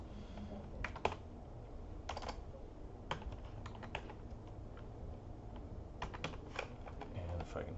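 Keys clatter on a computer keyboard, close and moderately quiet, in irregular clusters of quick taps separated by short pauses, with a faint low background hum.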